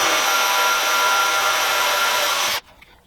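A small drill boring into metal while the sled for a Nashorn Pak 43/41 cradle is built: a steady high-speed whine for about two and a half seconds, then it stops abruptly and falls quiet.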